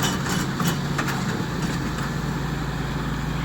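Kubota 50 hp and John Deere tractors strain against each other in a tug-of-war, their engines producing a loud, steady, unbroken drone at close range.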